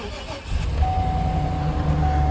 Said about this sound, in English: All right, the engine is running.